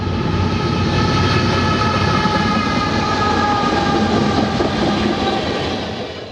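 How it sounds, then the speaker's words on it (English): An empty northbound CN oil train rolls through Centralia on a rainy day, a loud, steady rumble of freight cars with rhythmic wheel clatter and tonal rail noise sustained throughout, fading slightly at the end. "a northbound empty CN oil train passes through town"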